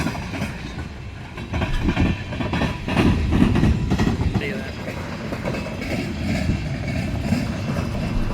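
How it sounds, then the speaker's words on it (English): A CSX freight train hauled by GE locomotives rolls past close by in Fostoria, Ohio, its wheels clicking rhythmically over rail joints under a deep continuous rumble that swells and holds steady throughout. "I was just here to enjoy one of the last trains of the video"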